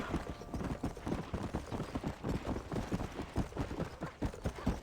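Rapid, steady clip-clopping of horse hooves in the video game Red Dead Redemption, close and rhythmic, with no talking.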